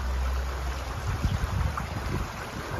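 River floodwater rushing through a neighbourhood of houses, a steady broadband roar of flowing water with wind buffeting the microphone throughout, no voices.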